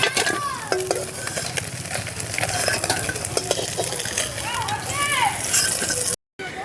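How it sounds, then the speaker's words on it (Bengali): Koi fish fry in hot oil in a village kitchen, a steady loud sizzle with spatula scrapes and stirring clinks against the pan while someone talks over it. "মাছের এক পিঠটা ভাজা হয়ে গেছে, অপর পিঠটা উল্টিয়ে ভালো করে ভেজে নেব সুন্দর করে।"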